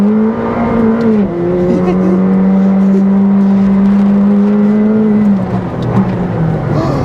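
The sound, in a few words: McLaren 765LT Spider engine accelerating hard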